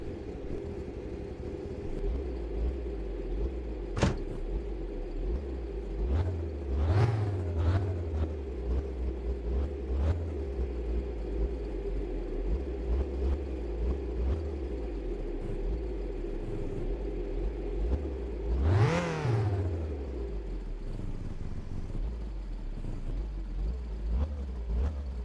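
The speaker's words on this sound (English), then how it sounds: "Rev it a couple times." A car engine in the My Winter Car game, idling at a low rumble and revved a few times with distinct rising and falling surges, the strongest rev near the end, close and fairly loud.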